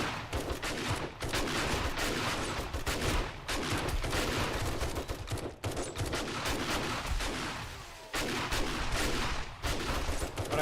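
Gunfire in the video game 7 Days to Die comes in dense, sustained bursts with brief gaps, loud and close, with no talking.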